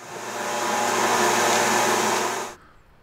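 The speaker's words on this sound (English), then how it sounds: "I'm going to cut these sides in half using a 2-degree taper on the table saw with my miter gauge." Table saw ripping through wood sides at a 2-degree taper guided by a miter gauge, a loud steady whining roar held for about two and a half seconds before cutting off abruptly to quiet.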